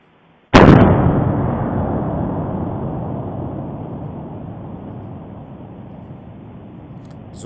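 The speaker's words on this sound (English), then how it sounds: "And then listen to this eruption." Popocatépetl volcano erupting in Mexico: one sudden, loud, sharp blast followed by a long, fading roar of rumble that lasts several seconds.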